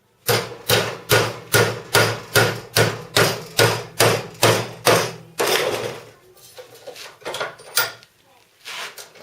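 Bending 6mm rebar clamped in a vise gives a run of about a dozen sharp, evenly spaced metallic knocks, close and loud, followed by scattered softer clanks and a quiet tail.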